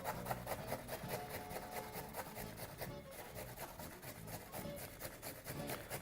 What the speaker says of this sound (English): So just using a grater, proceed to mince your ginger to as fine as possible.